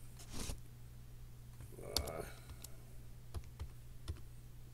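Computer keyboard typing during a fantasy sports draft, a few scattered light clicks and taps over a steady low hum, faint and brief.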